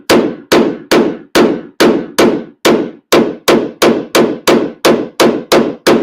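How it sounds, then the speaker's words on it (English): A paintless dent repair hammer taps a Ram 1500 bedside in a steady run of about fifteen sharp, close knocks, evenly spaced with no talking. "So I'm just giving this hammer a test out"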